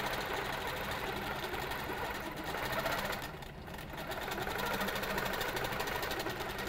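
A sewing machine stitches quilt pieces against a ruler, a steady close whir running nearly unbroken with a brief dip in the middle, with no voices.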